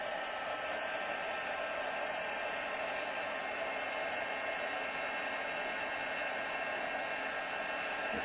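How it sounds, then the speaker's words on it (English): Heat tool setting embossing powder on a large rubber-stamped paper: a constant loud electric blower whir with a steady hiss, running unbroken and alone throughout. "now we're going to set that with our heat tool"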